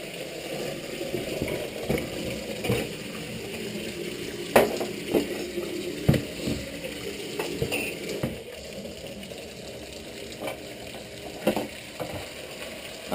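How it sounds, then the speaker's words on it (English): An electric kettle boils water in a home kitchen while cider is being brewed, giving a steady rolling bubbling hiss with scattered louder knocks and clatters nearby. "I'm boiling the kettle for the sugar."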